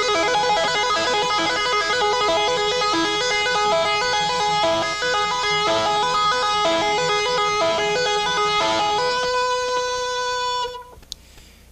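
Electric guitar tapping in a Quiet Riot hard-rock style, a fast continuous run of bright tapped notes for about ten seconds before ringing out and stopping, played alone and close.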